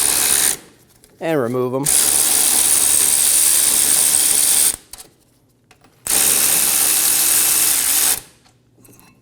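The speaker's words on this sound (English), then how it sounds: "Using a 17mm socket, remove the caliper bracket bolts." A ratchet with a 17mm socket loosens the brake caliper bracket bolts on the front brakes of a 2008-2015 Scion xB. Two long, loud, steady bursts of clicking fill most of the clip, with a brief spoken phrase between them.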